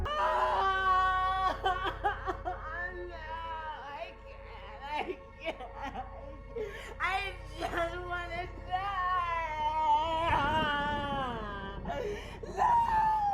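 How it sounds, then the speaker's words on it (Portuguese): A mother screams and wails in anguish in the horror film Hereditary, with long rising and breaking cries, gasps and sobbing moans of despair carrying on loudly and close throughout. "Ela começa a gritar, completamente sem chão."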